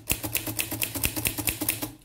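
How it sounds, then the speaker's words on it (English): An Underwood Universal manual typewriter types in a quick, even run of about a dozen sharp, close keystrikes with crisp mechanical clacks and no talking. "the typewriter will continue typing, even though we set the margin on the right side"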